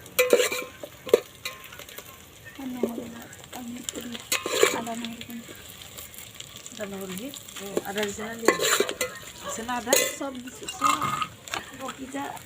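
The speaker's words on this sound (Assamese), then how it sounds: "এইফালে গল্ডেন কালাৰ নোহোৱালৈকে মানে পিঁয়াজখিনি লৰাই আছে" Chopped onions stirred and fried in a pan for a chicken-skin dish, with steady sizzling and repeated scraping stirs, while a person talks over the cooking throughout.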